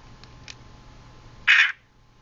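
A fake Nokia N95 8GB phone sounds one short loud electronic buzz-tone, preceded by two faint clicks, in a quiet room.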